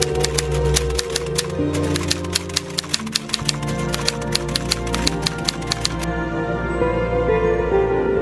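Rapid, steady clacking of keys on a manual typewriter typing out the Indonesian proclamation text, loud and close, running continuously with no voices.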